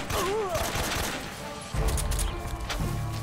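Gunfire in Metal Gear Solid 3: Snake Eater during the boss fight with The Fear, with heavy low bursts of shots and impacts over game ambience and a voice speaking.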